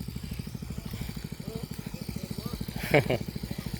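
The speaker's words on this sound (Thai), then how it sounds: "เครื่องสูบน้ำเรา" An engine-driven water pump runs while draining water to catch fish, its engine chugging in a steady low rhythm throughout, with a brief burst of voices near the end.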